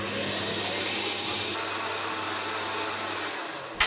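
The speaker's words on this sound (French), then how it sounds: "Voilà, là, on peut commencer à mixer." Blender running steadily as it mixes tomato paste with pineapple tomato, a continuous loud whirring drone that stops abruptly near the end.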